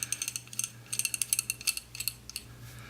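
A nut being run down on a threaded silencer baffle removal tool gives a rapid series of light metallic clicks and ratcheting ticks, close and fairly quiet, with no talking.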